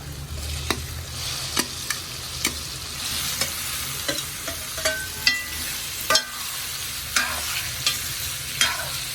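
Indian gooseberries (amla) fry in hot oil for pickle, giving a steady broad sizzle with sharp, regular spoon-scrape clicks against the pan roughly every second, close and fairly loud, with no talking.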